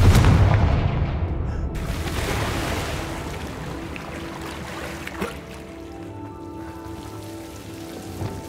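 A Confringo blasting spell explodes in the Hogwarts Legacy video game: a heavy burst opens the clip, then decays into a crackling, rumbling tail that fades to quieter ambience, with no talking.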